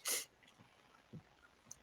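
A single sharp sneeze bursts out at the start, close and brief, followed by faint quiet room sounds and small noises at a low level.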